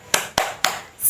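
Children in a grade 4 classroom do a spirit clap, three sharp, fairly loud claps in a quick rhythm followed by a brief rising sound at the end, no voices over them.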